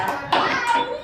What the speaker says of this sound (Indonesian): Tepuk tangan buat Raska.